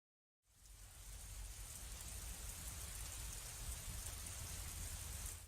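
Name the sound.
rain in video game GTA San Andreas, PlayStation 2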